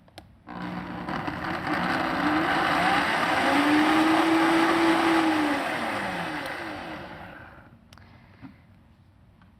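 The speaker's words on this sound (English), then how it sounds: "I'll blend the juices and the basil first before I add the oil" A blender whirs citrus juices and basil for a salad dressing, spinning up from a quiet start to a loud, steady roar with a rising then falling whine before winding down near the end.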